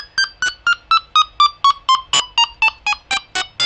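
Delkim Txi-D carp fishing bite alarm cycling through its electronic tones, about fourteen short loud beeps in steady rhythm, each a bright pitched chirp, with no talk.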